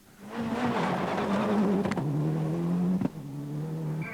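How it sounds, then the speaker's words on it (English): A Toyota Celica rally car on a fast forest rally stage, its engine droning steadily at high revs with a brief gear-change blip and pitch dips, loud and close with no other sound. "Debuting a brand new left-hand drive Toyota Celica, Bates set a blistering pace on the fast Forest Rally stages."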